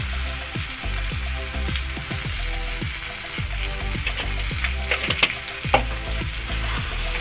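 Spices for egg curry fry and sizzle steadily in oil in a pan, with a spatula scraping and stirring in repeated strokes near and loud throughout, no talking.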